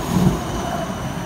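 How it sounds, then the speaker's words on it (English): Tram number 2 rolling through the streets of Geneva toward Central Station, a loud steady rumble of wheels on rails with a faint, thin squeal above it. "tram number 2 to Central Station"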